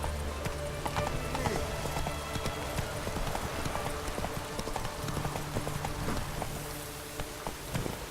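The horse Roach gallops in the video game The Witcher 3, with rapid, rhythmic clip-clop hoofbeats running steadily throughout, close and prominent alongside game ambience.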